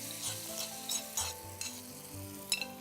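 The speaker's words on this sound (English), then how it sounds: "lightly brown these onions, and then I'm going to be adding some chopped garlic into it as well." Sliced onions with chopped garlic frying in oil in a pan for papad sabzi, a steady close sizzle broken by a few stirring scrapes over nearly three seconds, with no voices.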